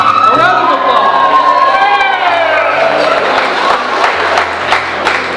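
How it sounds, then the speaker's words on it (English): Wedding guests at a reception applaud and cheer loudly throughout, dense clapping with whoops and shouts layered over amplified voices and a lingering tone. "A round of applause."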